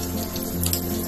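Tap water runs steadily into a sink at home, a continuous close rushing and splashing with no voices.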